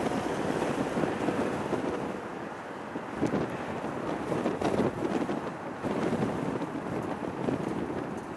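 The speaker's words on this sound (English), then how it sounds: "this wind's a bunch of rubbish" Strong gusting wind at Chicago O'Hare airport, a continuous loud roar of wind buffeting the microphone that rises and falls in surges without letting up.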